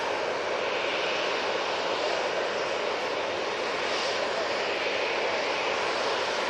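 A TUI airliner on the Verona route descends toward Manchester Airport, its engines a steady, unbroken broadband roar that stays level throughout, with no voices.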